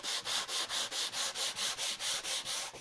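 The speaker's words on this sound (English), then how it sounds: "in less than 10 minutes of sanding, we're going to get this all nice and smooth" Wood hand-sanded with 80 grit sandpaper, a rhythmic series of about twelve even rasping strokes, close and alone.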